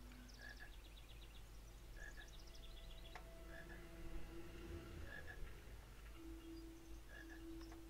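Toad croaking in a Harry Potter video game, heard as a few short, soft repeated calls spaced through a busy game soundscape with steady background tones.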